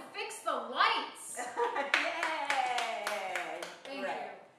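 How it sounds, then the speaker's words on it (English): Clapping from an audience in a comedy workshop, mixed with cheering and excited voices talking over it throughout. "Yay, applause."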